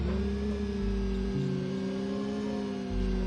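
A powerful car in Test Drive 6 driving over grass, its engine droning steadily with a shifting low rumble from the rough surface, close and without talk.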